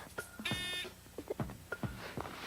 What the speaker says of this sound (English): when the 2 metals touch, the circuit is completed and the buzzer should go off